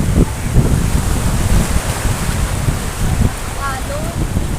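Strong wind buffets the microphone in heavy low rumbling gusts throughout, with a faint background wash like surf.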